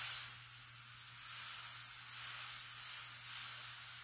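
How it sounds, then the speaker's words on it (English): Airbrush spraying paint onto a T-shirt during freehand work, giving a steady, continuous close hiss of compressed air and paint mist that holds level throughout with a faint low hum beneath. "keep your airbrush pointing straight at the target"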